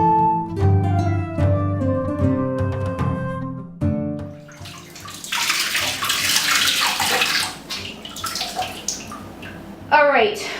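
Water sloshes and splashes in a bathtub as a silicone mermaid tail is scrubbed, with steady rushing water noise following a stretch of music-like tonal sound at the start.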